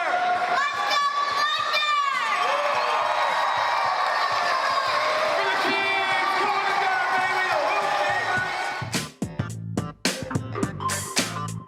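A crowd of young hockey fans at an ECHL game, Jacksonville Icemen against the South Carolina Stingrays, cheers and whoops loudly and steadily inside an arena, with shrill children's shouts rising above the roar and a few sharp bangs near the end.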